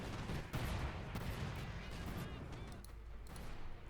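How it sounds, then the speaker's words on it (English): Cluster bombs hit anti-tank guns in the Company of Heroes 2 strategy game, making a heavy, sustained barrage of booming, crackling explosions that fades slightly toward the end. "We got another sort of cluster bombs unleashed here against LagguAR's anti-tank guns."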